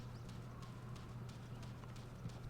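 Horse hooves clip-clop steadily in the video game Go Vacation, a regular galloping rhythm of soft, close thuds over a constant low hum, with no voices.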